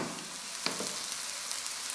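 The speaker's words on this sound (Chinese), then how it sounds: "烙至饼的表面微微变色，淋少许的油" A homemade layered wheat-flour flatbread fries in oil in a pan with a soft, continuous sizzle and a brief sharper crackle as a little extra oil is drizzled on; the sound is fairly quiet and there is no talking.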